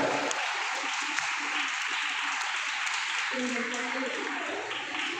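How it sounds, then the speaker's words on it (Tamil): At a Founder's Day pattimandram debate, the audience gives sustained applause to welcome a speaker. The clapping stays steady throughout, with a voice and some murmuring rising under it near the end. "அனைவரது கரகோஷத்தோடு அழைக்கின்றேன்"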